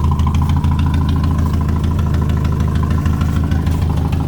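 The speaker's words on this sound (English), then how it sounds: "A 1978 MG Midget." A 1978 MG Midget roadster, converted into an SCCA-inspired little racer, idles close and loud with a steady, throbbing, slightly lumpy engine rumble throughout, with no talk.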